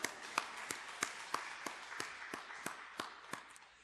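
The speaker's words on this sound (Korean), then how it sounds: "우리 축복하고 박수해 줍시다" A church congregation at a Wednesday prayer service claps in slow, evenly spaced beats, with roughly a dozen sharp claps about a third of a second apart. The sound is fairly faint and distant, with no talk over it.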